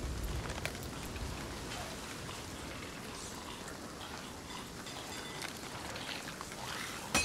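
Steady rain falling in the pirate sailing game Sea of Thieves, a dense, even hiss of drops pattering on surfaces, held at moderate level without a break.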